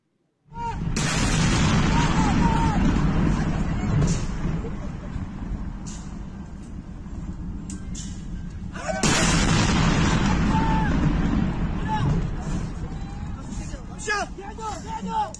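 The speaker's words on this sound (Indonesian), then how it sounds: "menunjukkan ledakan dahsyat diikuti oleh suara dentuman" Loud, sustained booming blasts with a rumbling roar, a fresh surge of explosions partway through, and distant voices mixed into the din.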